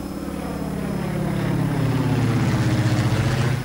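A propeller airplane in flight drones steadily with a throbbing, pulsing engine hum that grows slightly louder, heard close and continuous without voices.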